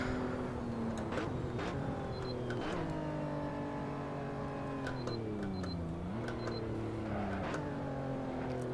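Lotus Evora GTC engine in Assetto Corsa on the Nordschleife pulling away from a standstill, its drone climbing steadily through the gears with brief dips at each shift, loud and continuous with no one speaking.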